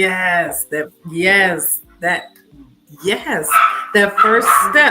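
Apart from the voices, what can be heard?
chihuahua barking in the background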